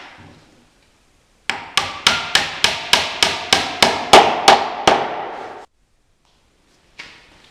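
Some fourteen loud, evenly spaced hammer blows drive 1 1/2 inch nails into the wooden frame of a Murphy bed, with a single faint knock after a brief silence.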